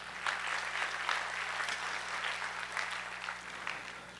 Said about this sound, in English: Gentlemen, give a round of applause to our tech crew in the back.